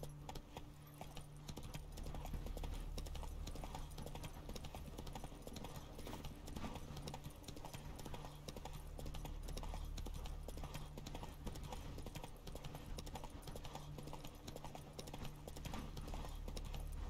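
A horse gallops in The Witcher 3 video game, with steady clip-clop hoofbeats running continuously under a dense, loud backdrop of game music and ambient sound.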